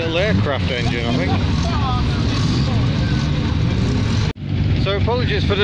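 Loud racing car engines starting up roar throughout at the Shelsley Walsh hill climb while someone talks over it, the rumble briefly cutting out near the end before resuming.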